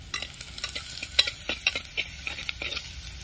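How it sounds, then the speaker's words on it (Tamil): Small onions fry and sizzle in a clay pot while being stirred, a steady crackling hiss broken by repeated scraping stirs and light utensil clinks, close and moderately loud, for a fish curry. "ஓகே, வெங்காயம் நல்லா வதங்கிடுச்சு."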